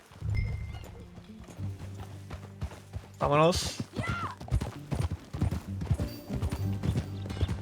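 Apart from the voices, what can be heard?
horse hooves riding in video game Red Dead Redemption 2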